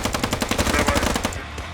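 Rapid automatic gunfire in a steady stuttering burst, loud and close, with a game-like sound and no talking, then trailing off into a low hum.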